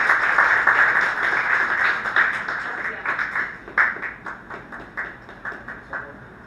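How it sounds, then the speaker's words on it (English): An audience applauding a speaker at an English pronunciation talk, a burst of clapping that thins into scattered, separate claps as it fades. "let's give a great applause for Magister Omar Pinzón"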